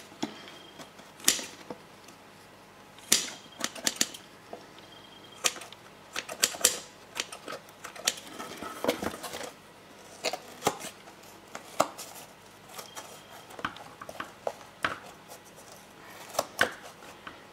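Scissors cut through yarn loops: repeated crisp snipping and clacking, irregular bursts of close cuts with short pauses between, no voices.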